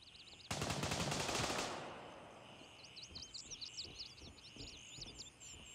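A close, loud burst of rapid automatic gunfire from the Gray Zone Warfare shooter game lasts about a second, then fades as birds chirp repeatedly in the background.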